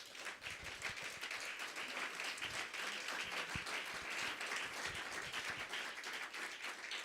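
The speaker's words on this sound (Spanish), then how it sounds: "Otro aplauso, amado hermano." A church congregation breaks into sustained applause for a preacher, dense, steady clapping with sharp individual claps throughout, filling the room without any talk.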